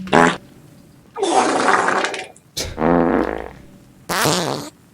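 Four separate fart noises play one after another, loud and close, some short and sharp, others long and buzzy, with brief gaps between them.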